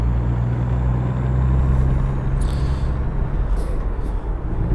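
Bus engine in American Truck Simulator labouring in too low a gear, a loud, steady low drone with a few faint higher hisses layered over it.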